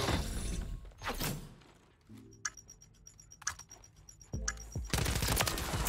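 A submachine gun in a video game rattles out several fast automatic bursts separated by quieter gaps with clicks and mechanical handling sounds, ending in a loud sustained spray of shots.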